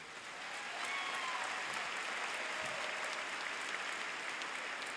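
Audience applause at a 2018 spring community college commencement ceremony, a steady wash of many people clapping at a distance in a large hall, fairly faint and continuous.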